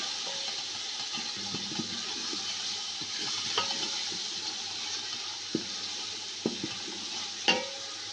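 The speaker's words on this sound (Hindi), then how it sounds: "अब मैं इसके अंदर ये सूरख मिर्च और इनको मिक्स कर लेंगे अच्छे तरीके से।" Tomatoes and red chili stirred in hot oil, giving a constant close sizzle with occasional soft scrapes and knocks of a spoon against the pan.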